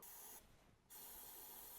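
Cleaner sprays onto the head gasket of an Audi V8 4.2 FSI engine in two loud, close hissing bursts separated by a short pause.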